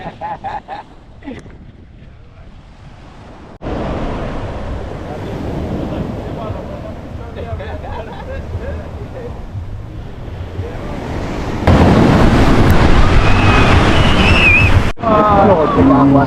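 Ocean surf rolls onto the beach at Port Royal, Jamaica, a broad continuous rush of breaking waves that grows louder partway through, with wind buffeting the microphone.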